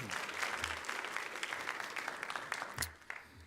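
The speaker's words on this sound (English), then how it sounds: "if I get the baseball team to stand, round of applause for you guys" Applause for the baseball team at a school sports awards ceremony, a crowd clapping steadily and densely for about three seconds before tapering off, moderately distant in a hall.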